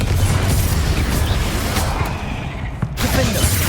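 A Confringo fire spell explodes in Hogwarts Legacy, a dense, roaring blast with a sharp crack near the end, sustained and loud with no talk.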